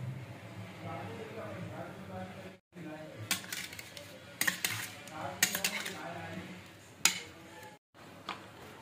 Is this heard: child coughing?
no